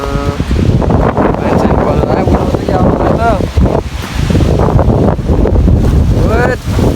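Strong wind gusting loudly into the microphone outdoors as rain threatens, a steady roaring buffet across the whole stretch, with people talking over it.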